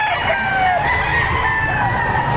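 A rooster crows loudly and close at a chicken market in Batangas, a long drawn-out call ringing through the whole moment with faint market ambience behind it.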